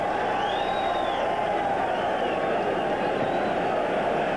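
A sellout crowd of more than 80,000 fills Rich Stadium at a 1986 Jets at Bills football game, producing a steady, loud roar of massed voices that holds evenly throughout without pauses.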